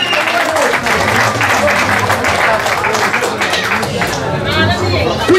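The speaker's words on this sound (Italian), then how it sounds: "Applausi signori, non siamo a un licenziamento, siamo a una premiazione." Applause at the prize-giving of a car slalom race, with steady crowd clapping filling the whole stretch over background chatter and murmuring voices.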